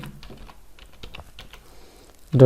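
Typing google.com on a computer keyboard, a quick run of close, light key clicks in an uneven rhythm, fairly quiet, ending with a sudden louder sound.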